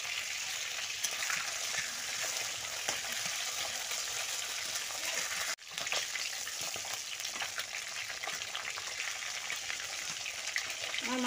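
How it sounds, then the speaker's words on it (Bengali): Fish sizzles steadily in hot oil in a wok after being flipped, a dense, continuous frying hiss with faint crackles throughout and a brief dip near the middle. "আমার মাছটা প্রায় ভাজা হয়ে এসছে।"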